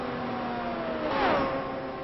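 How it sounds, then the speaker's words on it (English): Race car engine on a Kentucky oval during a late-race stretch, a distant droning whine that swells and dips in pitch as the car passes, with a faint hum of other motors. "It almost sounds like his car's running out of fuel, guys"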